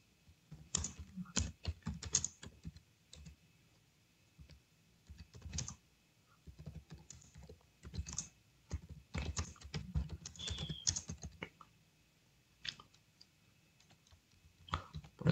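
Bursts of keyboard typing on a computer, quiet and close, with irregular clusters of key clicks separated by short pauses, no speech.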